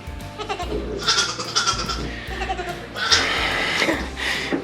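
Several goats, including a bottle-fed baby goat, bleating in loud, wavering cries that overlap and repeat, close by, with a person's voice briefly mixed in.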